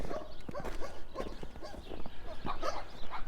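A dog barks on a residential street in Regina during a walk, a run of sharp, fairly close barks and yips repeating in quick succession with outdoor ambience behind.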